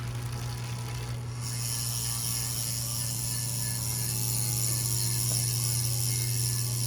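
A continuous fast buzzing clicking of a Specialized CLX Alpinist wheel's freehub spinning on a 2021 S-Works Roubaix, steady and fairly quiet over a low hum, with no voices.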